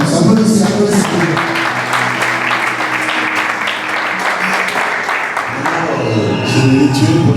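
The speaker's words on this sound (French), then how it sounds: "Applaudissez." A conference crowd in Kinshasa applauds loudly and steadily, a dense wash of many hands clapping close and continuous throughout, with faint voices mixed beneath.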